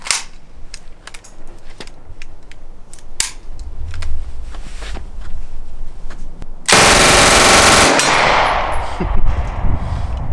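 Uzi submachine gun fired with its stock attached, with a string of single sharp shots and metallic clanks followed by a loud sustained burst of rapid automatic fire at close range.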